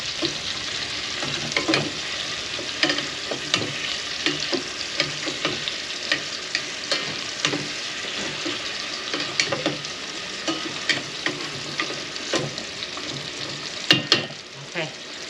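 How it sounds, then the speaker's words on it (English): Food sautéing in a pan outdoors, seasoned with black pepper: a continuous close sizzle broken by frequent clinks and scrapes of stirring throughout. "just gotta let that saute for a minute"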